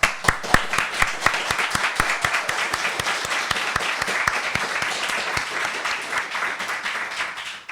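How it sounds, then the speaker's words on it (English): Audience applause at a talk on prediction markets in journalism, a sustained wash of clapping with distinct sharp claps near the listener, steady throughout and tapering at the very end. "Please a round of applause."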